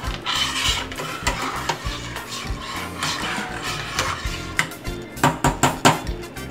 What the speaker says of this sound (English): Let me just stir it a little bit.